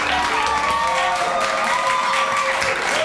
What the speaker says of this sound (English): Thank you for your warm applause